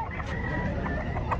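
A fighting rooster clucks in short bursts against a constant background hum of farm or market noise.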